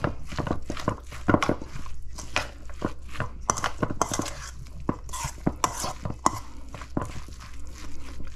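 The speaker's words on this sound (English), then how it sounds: "I just think add a little more tajin and give this a mix." A spoon works an eggplant filling with added tajin in a bowl, giving a close, repeated run of scraping and clinking strokes in an uneven rhythm, with no voices.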